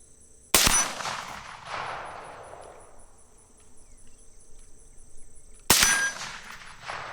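Two sharp rifle gunshots fired while checking the zero of a 1-6x24 LPVO scope, each a loud crack with a long fading echo, spaced about five seconds apart over a faint insect hum outdoors.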